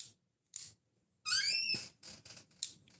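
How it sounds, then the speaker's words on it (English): A short, high-pitched squeak from a spray product, a bright rising squeal lasting about half a second, surrounded by scattered clicks and light handling noises. "Damn, that was a high-pitched squeak"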